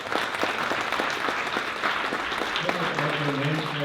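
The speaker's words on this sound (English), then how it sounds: "Give them a round of applause." Audience applause at a development research conference, a steady patter of clapping from a moderate crowd, with a voice starting to speak over it near the end.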